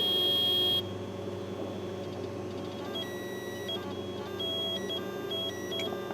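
A square wave tone drives a small motor, giving a steady electronic buzz with bright beeping overtones that stays continuous and fairly loud throughout, with no talk.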